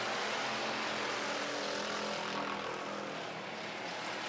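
Pure stock race cars roar down the front straight during a heat race, a dense, steady engine drone heard from a distance with no voices.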